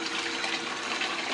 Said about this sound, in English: I'm running it through the concentrator, then down my little bucket sluice concentrator.